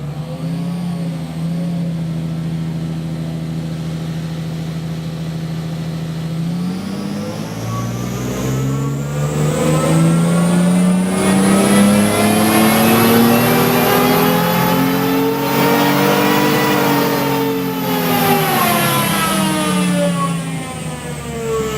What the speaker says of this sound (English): So let's get our engine running